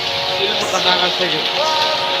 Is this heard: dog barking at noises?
no